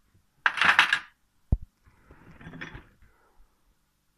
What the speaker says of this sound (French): Une petite clé Vanachrome de chez Facom, hein.